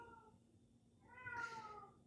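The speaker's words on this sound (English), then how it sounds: "One of my cats is yodeling." A domestic cat yowls indoors at night, one drawn-out, wavering howl that rises and trails off, faint and somewhat distant against a quiet background with no talking.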